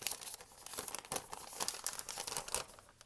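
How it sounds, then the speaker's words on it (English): A sheet of paper folded five times is opened out, giving close, continuous crinkling and crackling with sharper papery snaps throughout, and no talking. "Now when I open up my piece of paper,"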